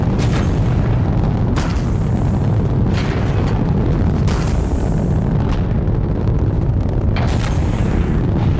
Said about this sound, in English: Ignition. Liftoff. Helios 1 ASA is a go.